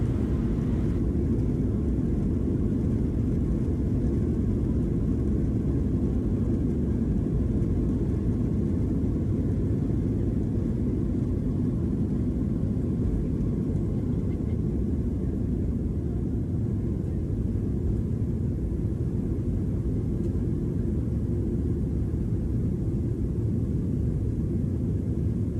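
Inside the cabin of a Southwest Airlines jet in flight out of Bellingham, a loud, even roar of engine and air noise drones on without change and without voices.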